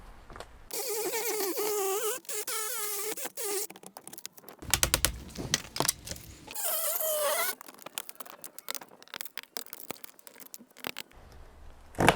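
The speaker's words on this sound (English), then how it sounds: "So I'm going to cut it with a Sawzall just to separate the sides from the middle piece." A Sawzall reciprocating saw buzzes in close, start-and-stop bursts as it cuts through an old wood window frame, separated by scraping and tapping.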